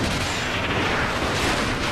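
Shooting in the Spectrobes: Origins game comes through as a dense, continuous burst of heavy blasting fire, loud and unbroken for a couple of seconds with no voices.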